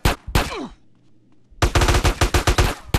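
Combat shotgun blasts in GTA San Andreas: two booming shots at the start, a brief lull, then a rapid volley of about ten loud, close blasts in quick succession.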